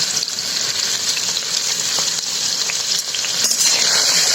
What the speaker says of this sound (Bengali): সাথে একটু জল দিই দিয়ে মশলাটাকে ভালোভাবে কষিয়ে নিই দিয়ে দিলাম স্বাদ মতন হলুদ স্বাদ মতন লবণ